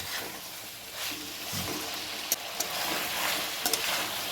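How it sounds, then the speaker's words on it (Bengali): Chicken pieces with tomato and capsicum are stir-fried in a hot pan, a steady close sizzle with soft scraping stirs and a few sharp utensil clicks against the pan. "এখন আমি মাংসের সঙ্গে এগুলোকে হালকা করে একটু কষিয়ে নেব"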